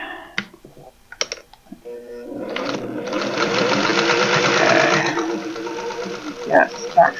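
A sewing machine runs a short burst of back stitching through a recycled towel potholder after a few scattered clicks, humming steadily for about two seconds, then stopping with light handling noises.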